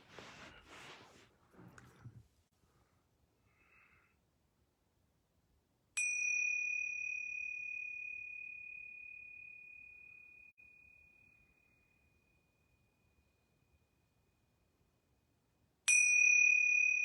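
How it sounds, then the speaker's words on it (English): Yoga bells ring clearly twice about ten seconds apart, each a bright, pure chime that hangs and slowly fades into silence, after a few soft spoken words at the start. "I'm going to ring these yoga bells 3 times."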